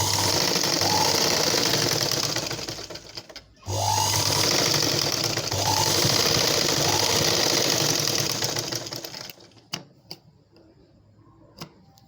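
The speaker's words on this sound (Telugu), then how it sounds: "ఇప్పుడు ఎక్స్ట్రా భాగం అంతా కూడా మనం పైకి పెట్టుకునే విధంగా పైనుంచే స్టిచ్చింగ్ చేసుకోవాలి" A sewing machine stitches a blouse with a fast, steady mechanical whir and clatter, running close in two long bursts with a short pause, then stopping to faint handling clicks.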